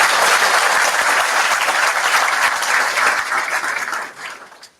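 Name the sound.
applause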